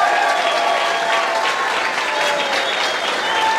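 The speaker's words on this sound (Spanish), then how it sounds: "un aplauso para el hermano" Audience applause for a brother at a Pentecostal-Catholic debate with priest Luis Toro, steady dense clapping filling the whole stretch with faint voices mixed in.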